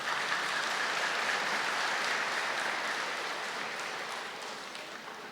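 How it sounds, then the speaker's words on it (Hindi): Sustained audience applause at a spiritual talk, a dense, even wash of clapping that holds steady for several seconds and tapers slightly at the end. "आपको ताली बजानी चाहिए कि नहीं?"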